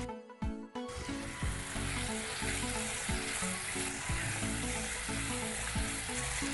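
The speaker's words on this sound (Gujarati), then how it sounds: "હવે એની અંદર 100 ગ્રામ બાફેલો સરગવો ઉમેરીએ છીએ" Boiled, chopped drumsticks tumble into a pan of sautéed spices for drumstick dal and set off a loud, steady sizzle after a brief clatter, with no voices.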